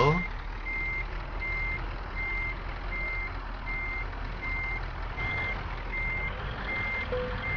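A truck in Euro Truck Simulator 2 backs a trailer into a parking spot, its reversing alarm beeping in an evenly spaced series of steady tones over a low, constant engine rumble.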